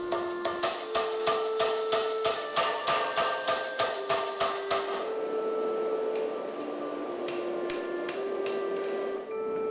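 A power hammer with a beveling jig pounds bevels into a wrought iron knife blade, striking in a fast, steady rhythm for about five seconds, then stops, leaving a few scattered metallic taps and shop hum.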